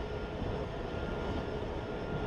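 Steady low tank engine rumble from the WARNO real-time strategy video game, a continuous even drone that holds without breaks for a few seconds, with no talk.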